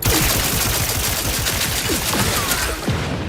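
Rapid automatic gunfire rattles loudly and without pause from a weapon in the video game Outer Worlds 2, a dense continuous burst that eases slightly near the end.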